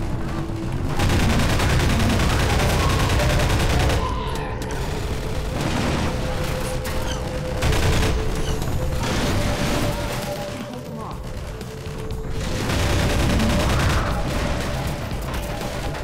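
Hunters' flechette fire in Half-Life 2: Episode Two comes as sustained bursts of rapid gunfire and booms, loud and dense, broken by short lulls.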